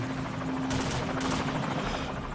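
Helicopter in the video game Call of Duty 4: Modern Warfare on PS3, a steady loud rotor drone filling the clip with brief gunfire-like bursts on top, no talking.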